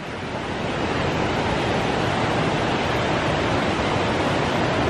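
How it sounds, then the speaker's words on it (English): A rushing mountain stream pours through a forest in a national park in Georgia, a dense, steady roar of water close by, with no voices. "Stream."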